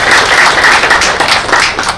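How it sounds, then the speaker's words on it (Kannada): A crowd of police staff at a get-together at the police commissioner's home gives a continuous, dense round of clapping, close and steady for the whole stretch. "ನಮ್ಮ CRಗೆ ಒಂದು ವಿಶೇಷವಾದ ಚಪ್ಪಾಳೆ ಎಲ್ಲರೂ ಹೊಡಿಲೇಬೇಕು"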